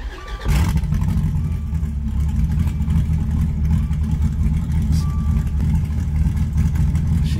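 A freshly installed 9.0L Viper V10 engine fires up for the first time and settles into a loud, steady, rumbling idle up close, with no voices.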